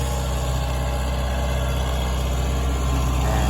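A farm tractor fitted with a bulldozer-style front attachment runs at a steady idle, a close, continuous low engine drone with constant vibration and no other sounds.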